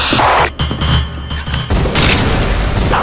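Several heavy booms burst one after another during an in-game firefight, loud and close, with the blasts of exploding grenades overlapping into a continuous roar of gunfire and detonations.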